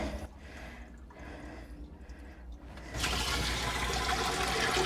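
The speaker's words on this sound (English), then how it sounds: "That's the hose water coming out of the pipe." Hose water gushes out of a drain pipe in a flooded yard, a soft trickle that jumps to a louder, steady rushing flow partway through.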